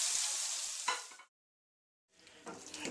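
Keema masala sizzling and frying in a pan, a steady hiss with a stir or clatter near one second, then a brief silence before the frying resumes, close and moderately loud with no talking.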